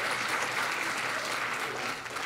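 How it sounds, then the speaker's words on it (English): An audience applauds at a church Back-to-School Sunday service, a steady dense wash of clapping that stays loud and even throughout with no talk over it. "Let's give her a big round of applause."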